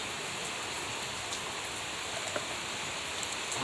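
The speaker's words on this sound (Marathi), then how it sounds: "पाऊस चालू आहे" Steady rain falls outdoors on a muddy off-road track, a dense, even hiss with faint scattered drops, continuous and moderately soft throughout, with no voices.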